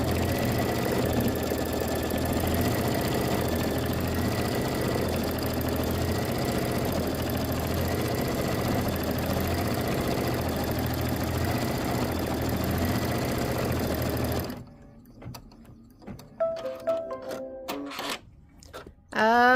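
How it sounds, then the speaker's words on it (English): A home embroidery machine stitches a white lettering fill on a quilt block, a steady close mechanical hum with a rapid repeating rhythm that stops abruptly near the end, followed by a few brief handling clicks. "Load the embroidery file into the machine. Stitch the sentiment fill, which is going to be the white writing."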